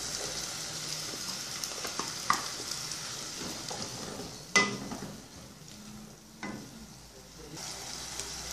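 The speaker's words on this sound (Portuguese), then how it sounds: "Quando a cebola e o pimentão estiver refogado, ó, acrescento o cheiro verde." Onion and bell pepper sautéing in a pan for Brazilian cuscuz paulista give a steady, fairly quiet sizzle throughout, broken by a few sharper clatters and stirring knocks near the middle.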